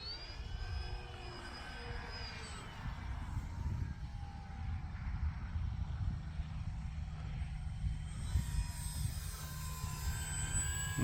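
A radio-controlled airplane makes a low pass, its steady engine drone rising and falling at a moderate distance against outdoor background noise.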